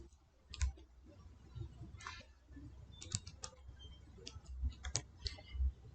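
Sharp, crisp clicks from a computer mouse come in irregular bursts and single taps, close and fairly quiet, with nobody speaking.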